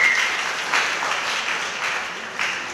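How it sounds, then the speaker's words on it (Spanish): Applause breaks out in a church after news of a newborn baby girl is announced, steady clapping from the congregation that holds at an even level with small swells throughout. "Un fuerte aplauso."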